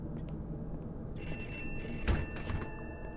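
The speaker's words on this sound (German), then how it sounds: "Also irgendwo klingelt hier ein Telefon." Ringing telephone in the horror video game Pineview Drive, starting partway through and continuing as a faint, distant bell over quiet ambient noise, with a soft thud near the end.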